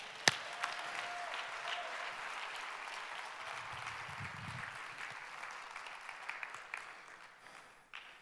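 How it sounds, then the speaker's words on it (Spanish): Church congregation applauding steadily, a dense wash of clapping that holds at an even level for several seconds before tapering off near the end. "Dame un aplauso."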